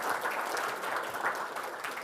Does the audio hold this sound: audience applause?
yes